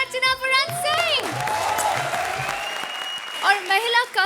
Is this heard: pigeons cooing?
no